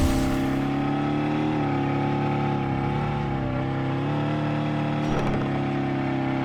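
2023 Dodge SRT Challenger Demon drifting in the video game Drive World: a continuous loud engine drone with shifting revs and tire noise, steady throughout with a brief disturbance near the end.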